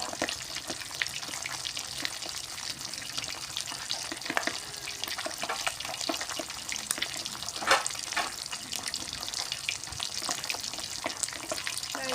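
Mackerel fries in oil until golden, giving a busy, even crackle and sizzle with scattered sharp pops that runs steadily throughout, close by and without voices.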